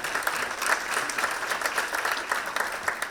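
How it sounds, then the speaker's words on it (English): Steady applause from a conference session audience, a dense and even clapping that keeps going at a constant loudness throughout. "I think this requires another applause."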